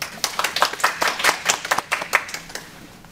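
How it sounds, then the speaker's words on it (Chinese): People at a lecture clap together in a short burst, irregular hand claps that rise and then thin out over a few seconds. "鼓掌一下。"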